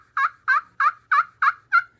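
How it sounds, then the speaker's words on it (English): An anodized turkey call built for loud long-distance calling gives six sharp, evenly spaced yelps, each piercing and close, with silence between them. "you can go outside and you can call turkeys in with this call"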